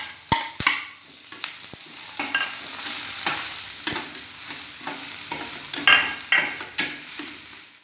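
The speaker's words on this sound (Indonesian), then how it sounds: "Panaskan minyak, kemudian tumis bawang bombay, cabai, dan bawang putih." Onion, chili and garlic sauté in hot oil for fried rice, a bright steady sizzle broken by sharp metal clacks and scraping stirs of a spatula against the pan, up close with no talk.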